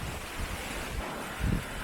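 Ocean waves wash in at a seaside shore in Paradise, Newfoundland, Canada. The surf is a soft, steady hiss mixed with wind buffeting the microphone, and a couple of low thumps come through. No one speaks.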